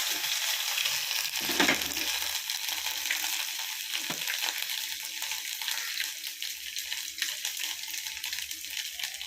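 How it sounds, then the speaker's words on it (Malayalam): Chopped ginger sizzles in hot oil after mustard seeds have popped, cooking for an Attukal-style pickle; a steady hiss fills the clip, with a brief clatter of stirring partway through and no voices. "കടുക് പൊട്ടി ഇഞ്ചി ഇട്ട് കൊടുക്കാം"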